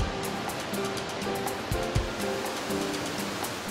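Mesa Falls in Idaho pours in a steady, broadband rush of falling water, unbroken and fairly close, with no voices over it.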